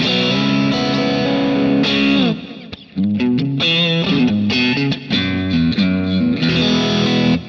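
A heavily distorted electric guitar through a high-gain amp plays sustained chords and then choppy, chugging riffs, loud and saturated throughout with no voices.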